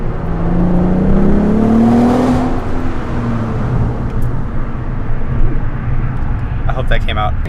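A 2008 VW R32 with a stage 1 DSG tune launches under a bridge. Its engine note climbs steadily in pitch and then holds as a loud, echoing drone with a continuous rumble.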